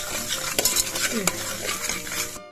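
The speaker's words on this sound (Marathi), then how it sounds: "मीठ पण टाकून त्याला चांगलं हलवून घ्यायचं आपल्याला." A spoon stirs mutton masala with turmeric and salt in a pot. It scrapes and clinks against the metal over a soft sizzle of frying spices, with a few sharp knocks in a short, busy burst.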